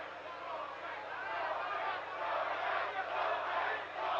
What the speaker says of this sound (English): the crowd here is trying to get Gómez revved up